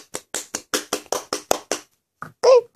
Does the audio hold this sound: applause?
yes